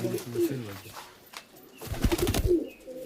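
Pigeons coo softly in low, throaty repeated calls nearby in a pigeon loft, with people talking over and between the cooing.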